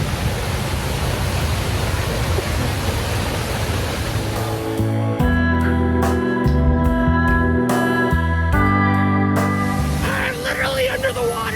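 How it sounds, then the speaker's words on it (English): Waterfall at Morrissey Falls, heard from a small cavern behind the falling water: a loud, continuous roaring rush, then partly masked by excited voices and a tonal musical layer for several seconds before the roar returns. "Waterfall!"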